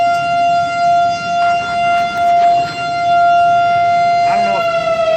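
A civil defense air raid siren during a test, a loud sustained wailing tone with strong harmonics held throughout, with faint voices underneath.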